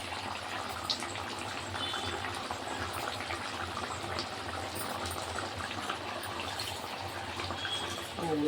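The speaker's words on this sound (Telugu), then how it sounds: "వాటర్ వేసాను" Water poured into an Andhra-style katla fish curry with tamarind and masala, a steady watery splash and bubbling that runs evenly and close throughout.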